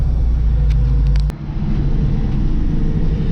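A 1967 Ford Mustang with a new setup rumbles along the road, heard from inside as a loud, steady low engine drone with a brief dip, as if shifting, partway through.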